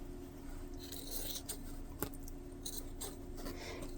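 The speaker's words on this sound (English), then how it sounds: "let's cut some of this excess off" Scissors snip off excess material on a handmade multi-pocket journal card in a quiet craft room, a few soft close cuts and rustles, no talking.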